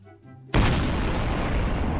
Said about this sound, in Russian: бомба далеко взорвалась